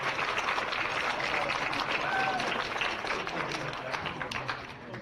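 A hall full of people at a high school athletic hall of fame induction claps for the athletes escorting the inductees, a dense, steady round of applause that fades slightly toward the end.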